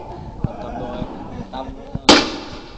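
A single sharp blast from an M79 grenade launcher fired at a target during border patrol police training, outdoors, preceded by lighter pops and thuds, with a voice calling out around it.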